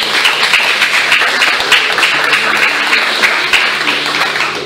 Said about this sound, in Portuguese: Quantos podem aplaudir Ele nesta noite?